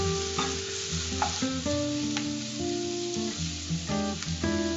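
Onions and ginger-garlic paste sauté in a pan for mutton keema: a strong sizzle with frequent scraping stirs, close and busy, over a steady tonal hum in the background.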